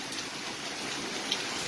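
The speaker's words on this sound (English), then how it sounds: "It's raining hard." Heavy rain falling late at night, a steady broadband hiss of downpour with no letup and one faint tap near the end.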